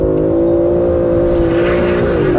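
A turbocharged luxury car's engine revs as the throttle is touched, giving a loud, close, steady droning tone that holds and then drops slightly at the end, with no voices.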